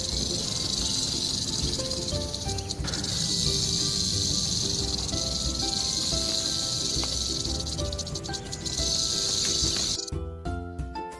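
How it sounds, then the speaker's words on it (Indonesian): A rattlesnake shakes its segmented tail in a loud, sustained buzzing hiss that runs steadily for about ten seconds, close and unbroken, then stops abruptly. "Ciri khas ular derik adalah ekornya yang terdiri dari segmen-segmen yang bisa menimbulkan suara yang keras bila digetar."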